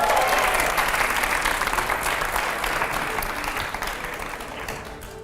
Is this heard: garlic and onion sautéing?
no